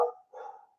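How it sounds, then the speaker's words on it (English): A house dog barks during a livestream at home, two short faint woofs back to back, brief and somewhat distant with no talk over them. "Well, that's our dog barking."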